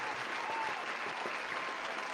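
Applause for a game master after a tabletop role-playing session, a short steady patter of clapping from a small group held at even loudness throughout.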